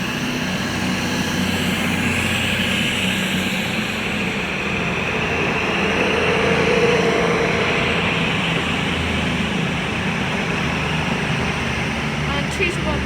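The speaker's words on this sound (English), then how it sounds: "now departing is the 13:05 Avanti West Coast service from Preston to London Euston. 221-102 is leading." Avanti West Coast Class 221 diesel train, unit 221-102 leading, departing Crewe station on the West Coast Main Line: a steady, loud broadband engine and rolling roar that swells slightly mid-departure, with faint high squeals near the end.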